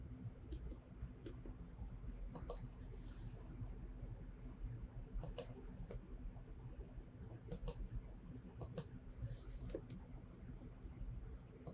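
Sharp, sparse computer mouse clicks while tracing an edge with Photoshop's magnetic lasso tool, arriving in irregular pairs and clusters over a steady low background hum.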